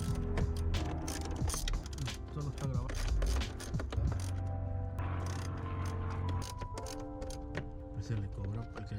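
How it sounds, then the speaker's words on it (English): Ratcheting tool clicks and metallic rattles while screws come out of a BMW F30 335 with the N55 engine, busy, close mechanical clatter over a steady low hum with background voices. "we just finished taking out the screws for the second bar"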